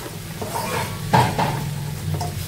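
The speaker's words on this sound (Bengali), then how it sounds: "তরকারি দিয়ে দিচ্ছি, মশলা কষানো শেষ। ডাঁটা, পটল, আলু।" Stem vegetables, pointed gourd and potato tipped into a pan of cooked-down spices, a close sizzle with a brief burst of scraping and clattering as the pieces land and get stirred.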